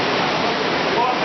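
Sea waves surge and churn inside a coastal cave at Cova dels Arcs, Cala dels Testos, a loud, dense, unbroken roar of rushing water filling the brief moment.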